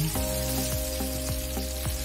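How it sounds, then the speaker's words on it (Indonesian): Ground spice paste sautéing in hot cooking oil for a school canteen dish, a steady close sizzle and crackle with faint periodic stirring scrapes, no talking. "lalu tumis bumbu halusnya hingga harum"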